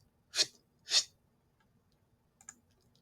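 A voice imitates a rotating lawn sprinkler with two sharp, hissy bursts about half a second apart, then a fainter short burst after a pause.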